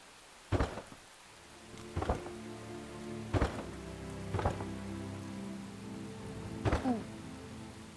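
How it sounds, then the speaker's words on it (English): Rain falling during gameplay in the video game Enshrouded, a steady hiss across the clip, broken by about five sharp thumping bursts that sound like rolling thunder or impacts. "Yeah, rain."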